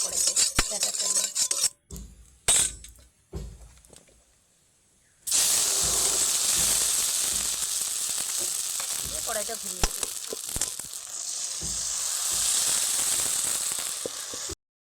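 Semolina batter fries in a lightly oiled kadai with a steady hiss and sizzle that starts after a few quiet seconds and continues. Brief utensil clinks sound, and someone speaks over it.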